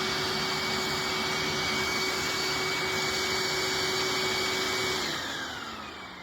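A Hoover wet/dry vac runs steadily as a blower, its motor whine loud and constant near the microphone before starting to wind down at the end.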